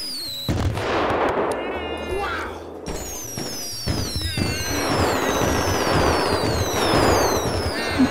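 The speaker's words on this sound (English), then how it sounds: "I found a bunch of fireworks for the party" Rapid bursts of fireworks in GTA 5 crackle and bang over several seconds, with whistling rising and falling tones and voices talking underneath.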